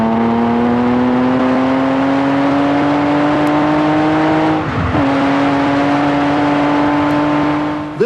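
A Lamborghini Countach's 12-cylinder engine revving loudly and steadily, its pitch climbing slowly before a brief shift-like dip, then rising again.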